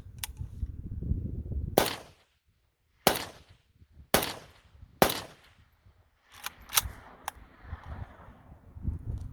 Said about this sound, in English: Century VSKA took the first shots with me.